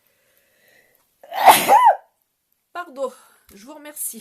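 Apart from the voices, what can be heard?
sneeze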